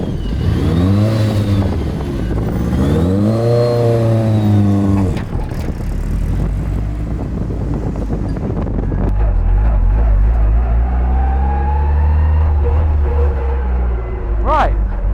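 A Mazda MX5 time attack race car built from the ground up revs and accelerates hard, engine pitch climbing in repeated sweeping runs, loud and close, with wind buffeting the microphone and a deep rumble later.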